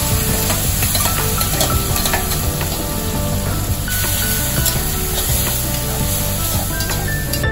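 Puree goes into a pan of browned garlic and ginger paste, raising a loud, steady sizzle with scraping and stirring clatter that runs without a break.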